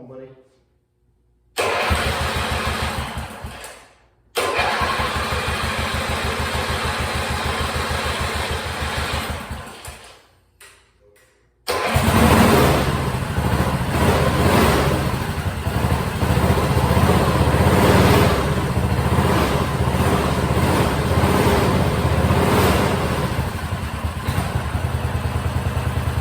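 A three-wheeler engine with freshly added oil and an unhooked breather hose cranks briefly, cuts out, then catches and runs steadily at a loud, close idle, with people talking over it.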